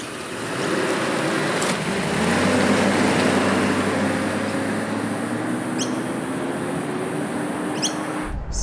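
A 1987 Mercedes-Benz 560SL R107 roadster driving, its engine note rising as it pulls away and then holding a steady loud drone with road and wind noise, ending with a clunk.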